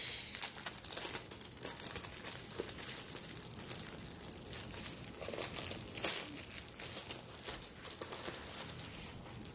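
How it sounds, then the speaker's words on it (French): A plastic bag from a diamond painting kit crinkling and rustling up close, in quiet, irregular bursts of soft crackles with a louder crumple partway through. "Alors, ça vient dans un sac plastique."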